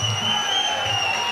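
Crowd at a live fight event cheering and roaring steadily, a dense, loud wall of voices with no breaks.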